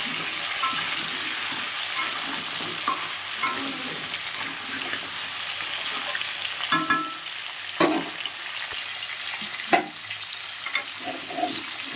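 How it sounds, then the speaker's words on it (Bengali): Potato and pointed gourd fry in oil in a wok with cinnamon, clove and dried chilli, a steady close sizzle broken by occasional scraping stirs and light clinks; no one speaks. "এটা একটু ভেজে ভেজে নেবো, আলু পটলটা বেশ ভালো করে ভাজা ভাজা হবে।"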